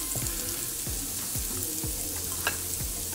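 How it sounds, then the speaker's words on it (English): Onions, yellow peppers, chocho and garlic sizzle in butter in a cast iron skillet, a steady close frying hiss broken by a few scraping stirs of the pan, no talking. "Then we're gonna add our onions, yellow peppers, and chocho and garlic."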